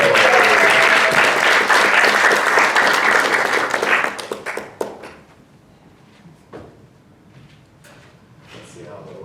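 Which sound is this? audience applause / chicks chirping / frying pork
audience applause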